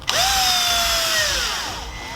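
A power drill whines as it drives a screw into a speaker back plate during a Porsche Cayenne E audio build. One steady, loud, close run of about two seconds slowly drops in pitch and fades, with no talking.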